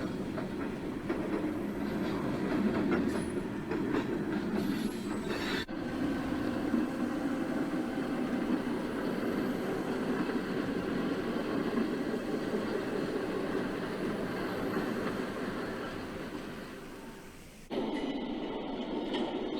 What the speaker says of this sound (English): SD9 6922 is idling, waiting for its chance to work the car float.